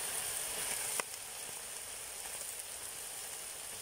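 Cabbage dropped onto minced meat frying in a kazan over an open fire, giving a steady close sizzle with a sharp crackling burst as it lands, then continuous hissing.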